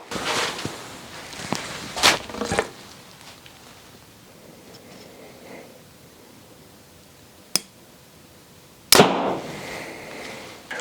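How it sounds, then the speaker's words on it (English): Mathews Lift X 29.5 compound bow firing arrows: a few sharp, snappy releases in a quiet outdoor setting, with a cluster early on, a lone crisp crack later and a final loud shot. "We're gonna shoot this one real quick, shoot them side by side"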